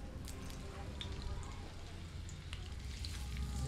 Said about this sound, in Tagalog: Mag-start na po kong mag-gisa. Kunting mantika po. Tapos ilagay ko na ang butter.